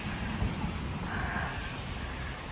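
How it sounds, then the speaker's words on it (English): Light rain falls on a mountain hiking trail on the Kumano Kodo in Japan, a soft, steady hiss of drops with faint low rumbling beneath, quiet and continuous throughout. "it's still raining a bit."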